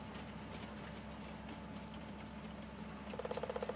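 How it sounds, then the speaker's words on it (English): Trains running in the Farming Simulator 19 video game on a contest map make a steady low engine and rail rumble, ending in a quick rhythmic clatter of wheels over track joints. "Well, these trains have way too much turning going on."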